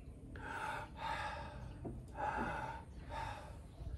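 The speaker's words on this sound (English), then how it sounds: "We connect the inhale and the exhale." Deep connected breathing during a breathwork session, with four strong breaths in a row, inhales flowing straight into exhales, close and clear with no talk.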